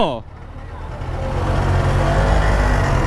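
An old auto-rickshaw's small motor engine idles and chugs steadily at close range, growing slightly louder and rougher, with a low rumbling throb throughout.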